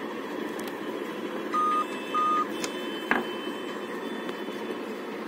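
A Dell Inspiron 5 laptop with a failing CMOS battery beeps at startup. Two short, clear, steady electronic beeps sound close together over a quiet background hum, followed by a sharp click.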